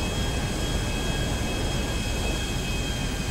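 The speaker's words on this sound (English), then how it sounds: "we are cleared for landing on runway 18. So, let's land" An airplane comes in to land on a runway in the FiveM (GTA V) video game, heard as a loud, steady, broadband engine and wind roar with a faint high whine held throughout, with no voices.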